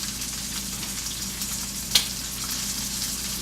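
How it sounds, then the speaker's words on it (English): Cheese sauce bubbling on baked walleye set on a bed of carrots, just out of a 350-degree oven: a soft, steady sizzle and hiss with faint popping and one sharper pop, no talking. "And that cheese sauce is bubbly"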